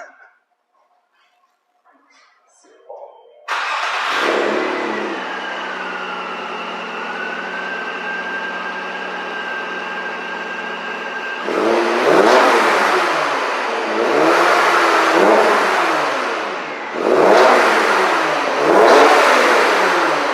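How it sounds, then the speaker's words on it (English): Nissan Maxima engine starting up and idling with a steady high whine from the supercharger, then revving in several loud surges close to the microphone. "So you can hear the supercharger."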